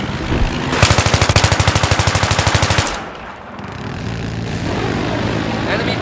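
An enemy helicopter in the Battlefield 3 video game, on the Damavand Peak map, goes past with a loud rapid rotor chop for about two seconds, then fades to a steady engine drone.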